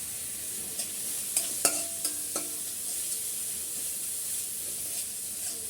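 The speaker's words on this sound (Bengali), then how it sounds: "একটু ভেজে নিচ্ছি হালকা" Spices with ginger-garlic paste fry in a pan with a constant close sizzle, broken by a few clinks of a spoon stirring early on, and no voices.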